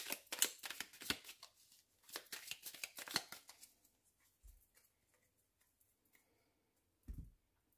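A deck of tarot cards is shuffled in quick, crisp riffling bursts, followed by quiet pauses and a soft thump as the deck is cut and set down, close up.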